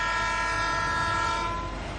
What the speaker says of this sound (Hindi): ट्रेन के पहिए थमे नहीं हैं